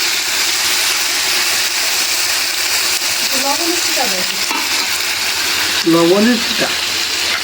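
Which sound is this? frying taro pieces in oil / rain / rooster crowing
frying taro pieces in oil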